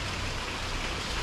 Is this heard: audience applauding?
no